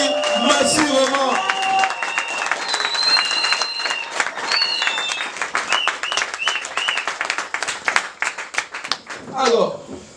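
Applause from a crowd at a community gathering in Libreville's 5th arrondissement, with dense rapid clapping, occasional cheers and some voices mixed in, sustained for about ten seconds.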